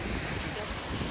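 Mediterranean Sea waves wash onto a beach in a continuous broadband rush, mixed with wind buffeting the microphone, and no voices are heard.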